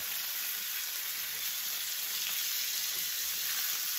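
An onion burger sizzles steadily on a hot grill just after being flipped, a constant close hiss of frying fat with no voices.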